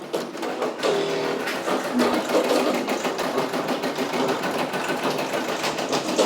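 A Brother Persona embroidery machine stitches a patch with a steady, fast, close mechanical whir and rapid needle chatter that runs continuously, with no voices.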